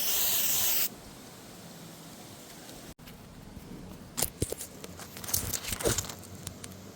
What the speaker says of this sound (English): what I'm gonna do now is spray some degreaser on just to give it a decent clean